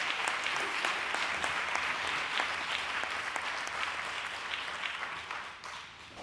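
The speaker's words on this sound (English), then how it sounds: "ask for a round of applause for people that help and participate" An audience at an international meeting on housing and homelessness gives a round of applause, even steady clapping heard from a distance, tapering off near the end.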